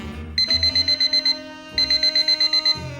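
Alarm clock ringing in the morning: two bursts of rapid, piercing electronic beeps, about eight pulses each with a short gap between, loud and close with no voices.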